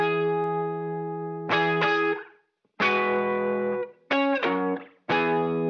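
Electric guitar chords processed with a 46-millisecond ping-pong slap delay in FL Studio ring out in several sustained, bright strums separated by short gaps, widened and slightly distorted, with no voices.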